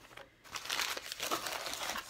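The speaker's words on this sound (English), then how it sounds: "the top of the box has a piece of packing paper to keep him from bouncing around" Packing paper crinkles and rustles close by as it is pulled from the top of a small, sturdy Breyer Stablemate box, in quick irregular bursts after a brief pause.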